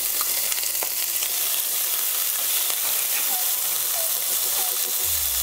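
Green chillies and curry leaves fry in hot oil with a steady, close sizzling hiss and scattered pops and crackles throughout.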